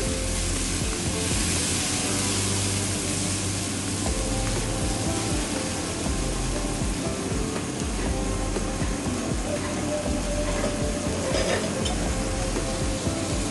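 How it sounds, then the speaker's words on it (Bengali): Chicken spice paste with red chili powder and cumin powder fries and is stirred in a pan, giving a steady close sizzle with scraping stirring strokes throughout. "এবার আমি মশলাটা কষিয়ে নিচ্ছি"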